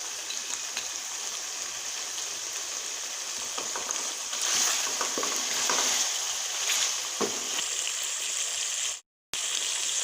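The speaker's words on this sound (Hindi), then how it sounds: "अच्छी तरह फ्राई कर लेंगे। और साथ ही कूटी हुई हरी मिर्च भी शामिल करेंगे।" Chicken fries in a karahi with ginger-garlic paste and crushed green chillies, a steady close sizzle with occasional stirring scrapes and no voices.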